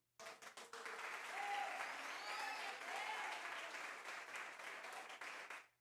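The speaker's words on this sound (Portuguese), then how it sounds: "Aplaude a Jesus." Church congregation applauding during a sermon, a burst of many hands clapping that swells quickly, holds steady for several seconds, then stops abruptly, with faint voices mixed in.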